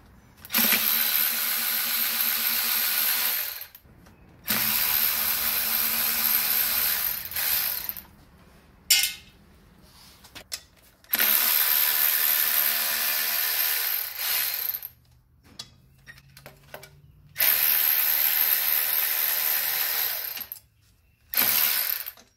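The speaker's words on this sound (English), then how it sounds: "you make sure you turn counterclockwise on your crankshaft with your breaker bar" A breaker bar turns the crankshaft of a Honda Civic counterclockwise during automatic transmission removal, making loud, close bursts of rapid ratcheting clicks a few seconds long, separated by quiet pauses and small knocks.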